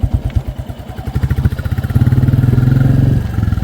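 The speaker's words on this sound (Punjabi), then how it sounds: "ਆਓ ਆਪਾਂ ਮੋਟਰਸਾਈਕਲ ਸਟਾਰਟ ਆ" A motorcycle engine idles with a steady, chugging rhythm, then revs up louder and holds a stronger running note, close by.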